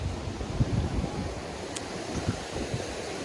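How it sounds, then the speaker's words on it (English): Gusty wind on an overcast day at a beach resort in Riviera Maya, Mexico, buffets the microphone in low rumbling bursts, with a broad steady rush like surf behind it. "it's windy, overcast. It's been raining here,"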